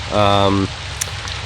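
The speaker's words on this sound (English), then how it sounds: "and then it started raining" Rain falling on a trail shelter along the Ice Age Trail, a steady close patter of drops on the roof, with a voice briefly speaking over it at the start.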